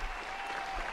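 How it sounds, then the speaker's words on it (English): A studio audience claps in a short, dense burst of steady applause, close and loud, lasting about a second. "We're done with the clapping now"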